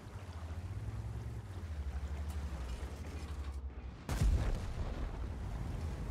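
A World of Tanks tank cannon fires once, a sudden heavy boom after a steady low engine rumble and creaking mechanical noise, followed by a rough lingering roar.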